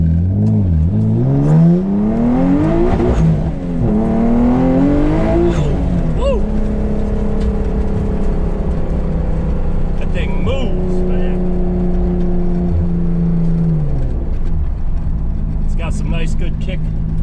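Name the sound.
500HP Nissan 300ZX car accelerating on a street ride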